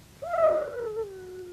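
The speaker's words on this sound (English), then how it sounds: "Are you afraid of the wolves?" A single drawn-out howl swells, bends downward and trails off slowly, moderately loud against a quiet backdrop, in a wolf-howl scene from a horror film.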